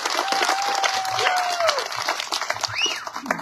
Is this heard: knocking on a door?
no